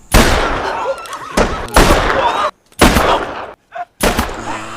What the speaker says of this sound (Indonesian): Dengan kejam, Hayabusa menembak para penjaga yang ada di sana.